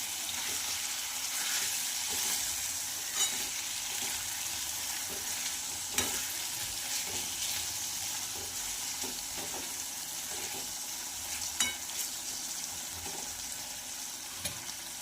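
Pumpkin vegetable curry simmering in oil in a pan, given a stir; a steady soft sizzle runs throughout with occasional scrapes and clinks of the spoon against the pan, close and moderately loud.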